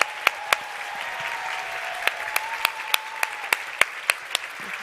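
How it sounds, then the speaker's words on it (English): A small audience gives a round of applause to a speaker, scattered distinct hand claps popping at an irregular pace over a faint background hum, fairly quiet and thin rather than a full crowd. "Let's give Sherilyn a round of applause."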